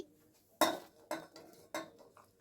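Chopped cauliflower, beans, carrots, peas and cabbage are tipped one portion at a time into a cooking pan for pav bhaji, giving three close, clattering metallic knocks in an uneven rhythm.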